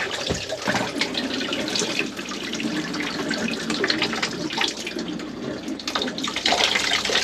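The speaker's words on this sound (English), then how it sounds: "Now for the shower." The shower tap runs in an RV bathroom while pink antifreeze is pushed through the lines for winterizing, a steady close hiss and splash of water with no voices.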